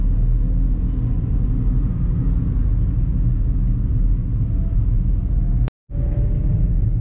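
A 2019 Datsun Go Panca facelift hatchback engine droning steadily under load while driving, a loud, constant low rumble with a brief dropout near the end, then the drone resumes, no voices.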